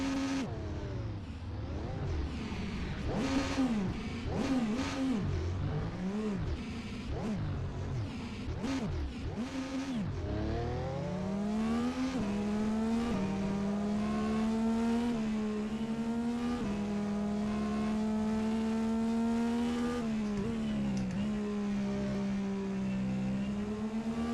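A 2019 IndyCar in the rFactor 2 racing game revs hard in a rapid series of sharp rising and falling bursts, then holds a smooth, high, droning engine tone that climbs steadily. The engine is loud and up close, with no talking.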